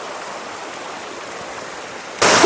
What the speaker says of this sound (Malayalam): പ്യുവറായിട്ട് ഫിൽട്ടർ ആയിട്ടാണ് ഇവിടുന്ന് വെള്ളം ഒഴുകി പോകുന്നത്.